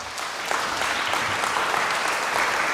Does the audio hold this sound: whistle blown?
no